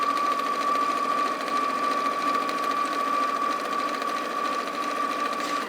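A sewing machine runs continuously, stitching a long seam along the top edge of fabric, its steady, even whir close and unbroken throughout.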